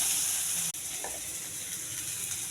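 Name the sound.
cabbage frying with tempering spices in pan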